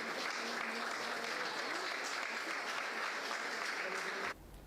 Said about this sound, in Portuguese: sob aplausos da plateia